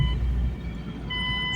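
A car being driven on Nigerian roads, heard from inside as a steady low engine rumble and road noise throughout, with faint tonal whines above and no talking.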